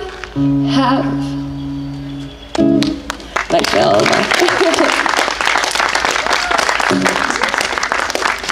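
Applause and clapping from a festival audience greet a band after its set, a dense sustained wash of hands that begins after a few sung notes, swells, and runs steadily to the end.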